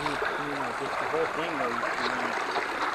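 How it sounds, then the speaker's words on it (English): Water flows steadily in a small stream at a desert oasis, a continuous rushing trickle with someone talking faintly over it. "Some flowing water."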